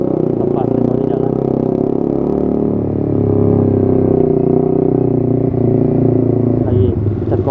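A Suzuki GSX-R 150 motorcycle's engine runs under riding, a steady close drone with mild throttle changes, and a voice speaks faintly over it near the end.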